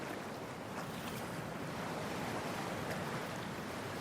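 Game water and waves in Cyberpunk 2077 wash as a continuous soft surf with wind noise, steady and fairly quiet, with no voices.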